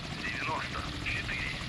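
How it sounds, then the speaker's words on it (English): Helicopter flying overhead in the naval video game Sea Power during a storm, a steady rotor drone under continuous talk. "But there is a helicopter in the sky,"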